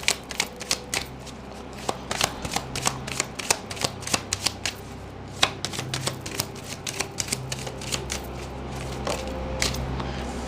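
Playing cards being shuffled and drawn for a tarot-style reading, a steady run of crisp riffling and snapping card flicks, close and fairly loud, with no talking over them.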